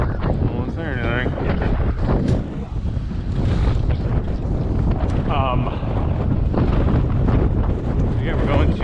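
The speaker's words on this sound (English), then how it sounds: "it's pretty intense. It is windy." Heavy wind roars across the microphone while cycling through New York City, constant rumbling buffets with voices talking underneath.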